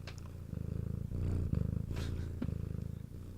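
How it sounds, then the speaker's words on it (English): A very small cat purrs close to the microphone in a steady rhythmic rumble, swelling and easing in pulsing phrases across the moment without voices over it. "Can you guys hear Waffles purring"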